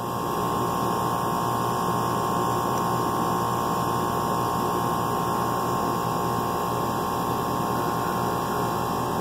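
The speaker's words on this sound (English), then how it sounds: "The compressor is grumbling." During a defrost cycle, a refrigeration compressor hums and grumbles steadily at close range, a constant electrical drone with faint static and no voices.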